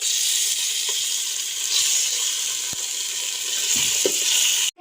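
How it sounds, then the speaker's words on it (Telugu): Chicken pieces hit hot oil with fried bay leaves while cooking biryani, giving a steady, bright sizzle that holds for several seconds. A few faint clinks sound beneath it before it cuts off abruptly. "బిర్యానీ ఆకులు ఫ్రై అయిన తర్వాత చికెన్ వేసుకోవడమే"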